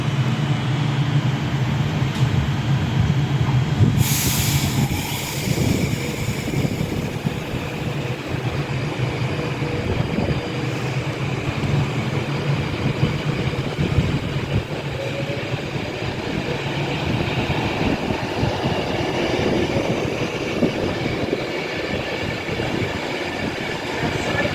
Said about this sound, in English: About to depart now is the late running 1547 Avanti West Coast service to Manchester Piccadilly.